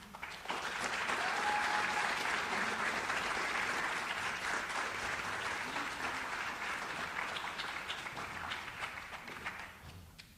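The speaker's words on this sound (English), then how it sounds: "round of applause, please, for Jana Bodka and Violet Howe" A school assembly crowd gives steady applause for two seniors at a final class assembly, a broad, even wash of many hands clapping at a moderate distance that slowly fades near the end.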